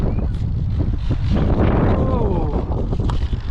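Wind buffeting the microphone during an RC plane flight, a loud continuous rumbling rush with gusty swells and a faint whine running through it.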